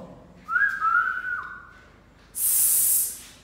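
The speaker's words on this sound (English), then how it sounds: "If a child whistles with his mouth," A person whistles a short sliding note with the mouth, followed by a brief breathy hiss of air.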